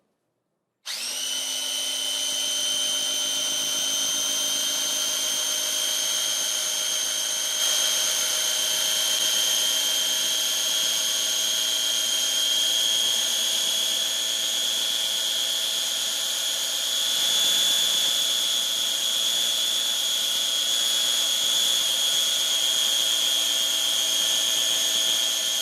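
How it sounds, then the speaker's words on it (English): A Cuisinart food processor runs continuously with a steady, high-pitched motor whine that starts abruptly and holds even and loud throughout while oil is added, with no talking. "I'm going to show you how to add the oil while the machine is running"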